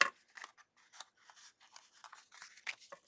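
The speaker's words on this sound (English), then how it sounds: "Trim off what you don't need." Scissors snip and trim paper for a watercolour pencil birthday card, a quiet series of short, irregular cuts close up with small pauses between them, no voice present.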